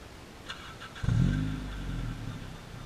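A 2013 Honda Civic Si with an AP muffler, stock resonator and factory headers, gives a deep, close exhaust burst at about one second that rises and then settles into a steady rumble.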